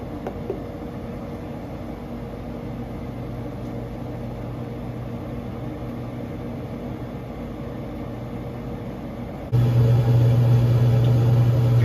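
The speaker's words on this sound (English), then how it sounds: "Fan is running and the auger is moving" A Pit Boss Laredo 1000 pellet grill on startup runs its fan and auger with a steady mechanical hum and whir, which jumps to a louder, stronger drone near the end; no one speaks.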